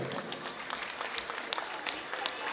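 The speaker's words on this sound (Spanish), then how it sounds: "Venga el aplauso bonito, pero fuerte, que escuchen." Wedding guests applauding, a faint, distant patter of clapping with scattered sharper claps over a murmuring crowd.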